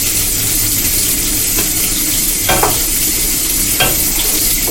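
Food fries with a loud, continuous sizzle in a pan while a utensil stirs and turns it, a few scraping strokes standing out above the steady crackle.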